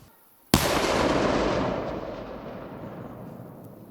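A single sudden, loud blast, followed by a long rumbling roar that slowly fades away.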